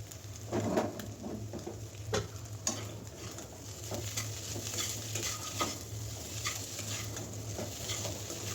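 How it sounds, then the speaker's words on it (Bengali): Fried egg and potatoes are stirred together in a hot pan with a steady low sizzle and repeated scraping strokes from a spatula. Cutlery knocks against the metal now and then, and there is no talking. "ডিমটা ভাজা হয়ে গেছে, এবার আলুর সাথে মিশিয়ে দিই।"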